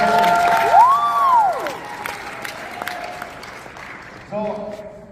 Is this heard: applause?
yes